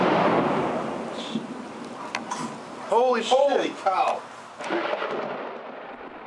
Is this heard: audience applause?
no